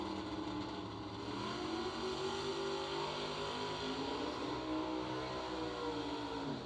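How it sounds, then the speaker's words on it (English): A 1968 Chevelle drag car idles and revs at the start line of a drag racing meet, a steady rumbling engine roar with rising RPM, heard from a distance against a noisy outdoor background. "You'll hear the RPMs come up on that machine after he stages."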